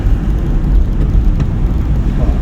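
Car engine drone and road rumble during a driving lesson as the accelerator is pressed before a shift into third gear. It is a loud, steady low hum from inside the cabin with no clear rise in pitch.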